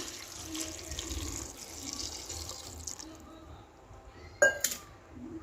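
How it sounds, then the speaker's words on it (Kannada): Water pours into a cooking pot holding spinach and lentils for sambar, a steady splashing stream that stops partway, followed by a sharp metallic clink of the pot near the end. "ಇವಾಗ ನೀರನ್ನು ಹಾಕ್ಕೊಳ್ತಾ ಇದ್ದೀನಿ."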